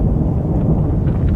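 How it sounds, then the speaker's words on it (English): Thunder rumbles low and heavy, with a hiss of steady rain behind it, in a brief, loud, continuous burst. "I hear the sound of an abundance of rain."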